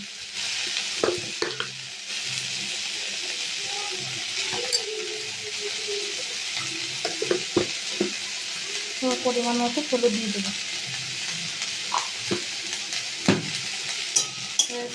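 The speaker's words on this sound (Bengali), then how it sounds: "একটু ভাজা ভাজা করে নেব" Pointed gourd peels sizzle gently in a pan while a spatula scrapes and taps now and then; a person speaks briefly over the cooking.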